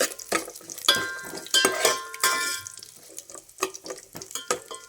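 Mustard seeds, cumin and whole spices fry in heated oil and ghee for paneer biryani. Irregular sharp crackles and pops come with scraping clatter from a pan, close by and moderately loud, with no speech.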